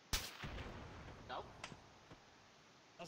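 Arma 3 gunfire: a sharp shot rings out, followed by scattered distant bangs and thuds, with faint voices underneath.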